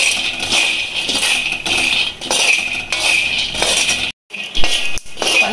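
About 200 grams of peanuts dry-roast in a pan on a lit stove, rattling and clinking steadily against the metal as they are stirred, with a brief break near the end.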